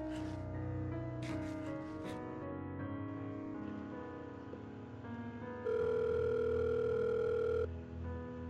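Telephone in a Minecraft short film ringing before voicemail picks up: a steady electronic tone over background music, ending in one loud, sustained beep-like burst near the end.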